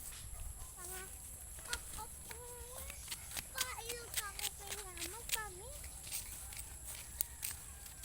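Chickens cluck and call repeatedly at close range, their short squawks overlapping, with faint background noise and occasional light thumps.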